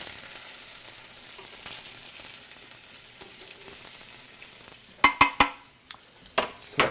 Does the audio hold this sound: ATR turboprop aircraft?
no